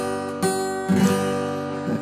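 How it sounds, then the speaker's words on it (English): An out-of-tune chord strummed on an acoustic guitar from Zager Guitars, rung out twice or so with sustained, slightly clashing strings that fade between strums, close and alone. "if I play out of tune, it's going to sound like this chord"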